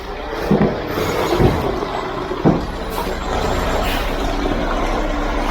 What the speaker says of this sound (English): Try and get this truck leveled out a little bit to mix.